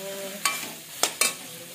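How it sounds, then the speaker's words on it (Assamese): Tomatoes go into a frying fish curry with quiet sizzling throughout, broken by three brief, sharp scrapes of a spoon stirring the pan, one early and two close together near the end; no one speaks. "এইখিনি মাছৰ জোল বনাম এতিয়া বিলাহী দি পেলাই।"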